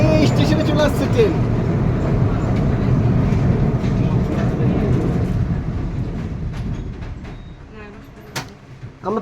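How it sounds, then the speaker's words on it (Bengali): A train rumbles and clatters loudly as it arrives at a station, then slows and fades into quieter stillness near the end. A person talks over the train noise. "এই স্টেশনে চলে আসছে ট্রেন"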